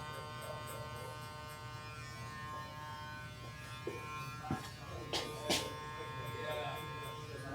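A cordless electric hair clipper rated at 11,000 RPM cutting hair makes a faint, steady buzz with a few sharp clicks and snips, while quiet speech runs underneath.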